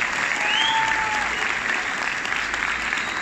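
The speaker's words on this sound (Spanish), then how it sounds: "Fuerte el aplauso, muchísimas gracias." Theatre audience applauding steadily throughout at a conference on the value of life held at Teatro Zaragoza, a dense, continuous clapping that stays fairly loud, with a faint whistle over the crowd.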